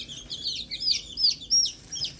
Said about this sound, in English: it's a little hen.